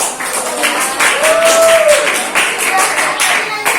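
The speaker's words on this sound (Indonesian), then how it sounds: "Oke, tepuk tangan buat Mas Manji." A room of people claps together in a steady burst of applause, dense and fairly loud, with a brief voice sounding underneath.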